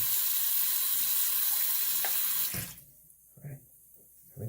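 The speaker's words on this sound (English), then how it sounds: "I'll put some water in the sink" Tap water gushes into a bathroom sink in a loud, steady rush, then cuts off abruptly, followed by a few soft knocks and handling sounds.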